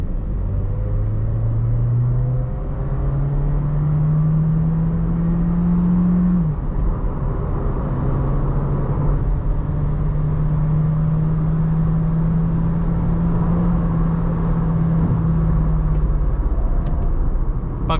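A Volkswagen Virtus driving on the road, its engine and tyre noise forming a steady, close rumble throughout, with a droning tone that rises and falls as the car goes through gear changes.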